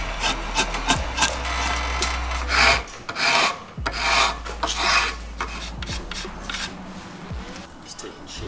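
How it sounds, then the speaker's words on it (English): A hand rasp files down a wooden self-bow limb in steady scraping strokes, loud and close, with people talking at intervals over the work. "Just clean it up with the rasp."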